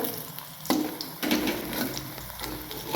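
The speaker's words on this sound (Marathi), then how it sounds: "एकदम बारीक गॅसवरच आपल्याला फ्राय करायचं आहे" Brinjal (eggplant) slices fry in a pan over a very low flame, a soft steady sizzle with a few brief stirring and scraping clatters, heard close and alone.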